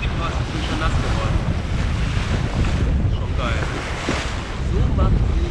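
Strong wind buffets the microphone while waves rush and splash steadily against a moving sailboat, a continuous loud roar.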